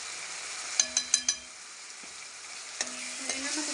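Turmeric and spices being stirred in a pan: a quick run of four sharp clinks of a spoon against the metal, then a lone tap and a few more scrapes over a faint, quiet background sizzle.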